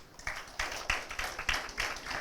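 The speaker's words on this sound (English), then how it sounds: "Give her a big round of applause." Audience applause at a talk or presentation, a dense wash of claps with a few sharper accents, loud and continuous for about two seconds.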